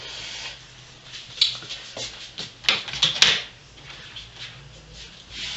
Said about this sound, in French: je vais couper un peu long